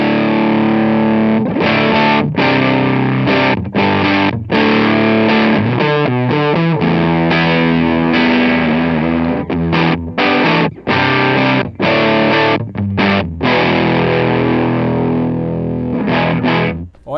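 An electric guitar runs through a Facer fuzz pedal, giving a thick, heavily distorted tone. Loud strummed chords and riffs are cut by short abrupt stops, played close and alone with no talking.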